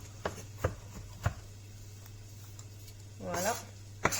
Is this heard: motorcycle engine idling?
no